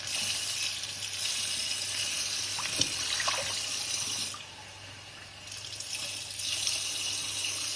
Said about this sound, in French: donc je vais ajouter 2 verres d'eau